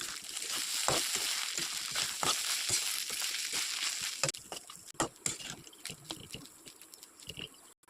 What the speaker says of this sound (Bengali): চিরা দিয়ে এখন ভেজে নেব।